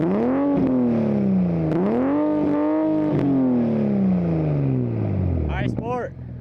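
A Toyota GR Supra fitted with an RK titanium exhaust revs repeatedly, its engine note rising and falling in several loud sweeps before settling, with a brief voice near the end.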